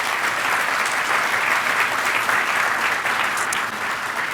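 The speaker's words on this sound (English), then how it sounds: "So huge round of applause for these two." Sustained audience applause fills a keynote hall at a Sydney conference, a dense, even wash of clapping from a large crowd lasting several seconds with no talk over it.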